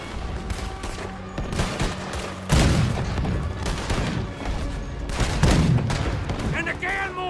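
Cannon fire at a boat in the Red Dead Redemption 2 video game, heavy booms and rattling volleys of gunfire in a loud dense battle, with voices talking over the noise.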